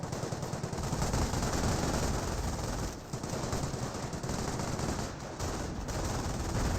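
A US .30 cal machine gun in the Company of Heroes video game fires in long, dense, continuous bursts, loud and close, with a brief pause partway through.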